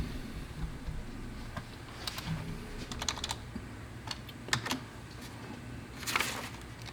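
Computer keyboard keys tapped while entering a register command for mass flow device communications, sparse quiet clicks in short irregular bursts with pauses between, close but soft, no talking.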